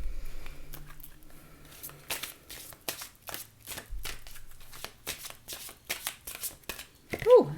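Oracle cards are shuffled in repeated soft, papery riffling bursts, close and fairly quiet, with brief pauses between them.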